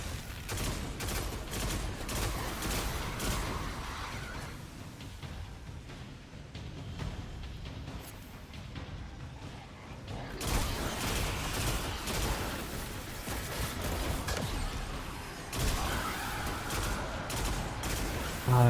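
Rapid automatic weapon fire in Destiny 2 rattles continuously in dense volleys, loud and close, with a brief lull midway before the bursts resume hard and steady.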